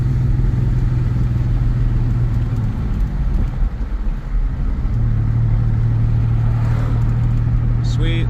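A 1996 Chevy S10 engine fitted with Holley Sniper fuel injection idles steadily, then gets a brief blip of throttle that swells the revs before settling back to a smooth idle; someone talks over it.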